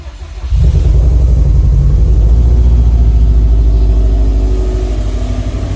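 A NASTI build car engine catches after the fuel pumps and ignition are switched on, then settles into a loud, steady, close rumble with light revving and no voices.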